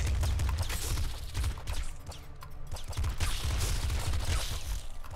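Rapid gunfire in the Nuclear Throne video game, dense bursts of shots firing in quick succession with a heavy low-end rumble, loud and nearly continuous.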